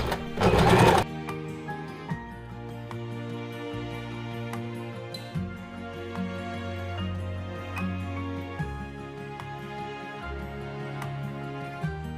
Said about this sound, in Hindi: कपड़ा को नीचे रखेंगे और अपने सूट को ऊपर रखकर सिलाई करेंगे।